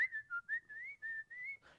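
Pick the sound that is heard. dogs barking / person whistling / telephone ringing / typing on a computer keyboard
person whistling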